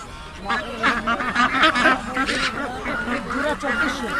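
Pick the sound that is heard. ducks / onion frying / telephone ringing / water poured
ducks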